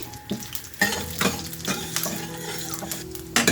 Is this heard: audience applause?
no